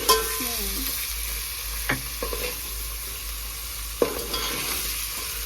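Maggi rice stir-fried in a pan, with a soft steady sizzle running throughout and a few sharp spatula scrapes and clinks against the pan, close by and without talk.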